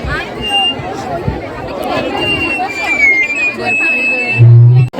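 A busy Ganpati festival gathering hums with crowd babble and chatter, a close voice talking over the mix and a brief loud buzz near the end.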